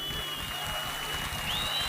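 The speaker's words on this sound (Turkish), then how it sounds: "Ona bir alkış olsun." An audience at a tribute evening breaks into dense, sustained applause lasting the whole short moment, with a thin whistling tone riding above the clapping.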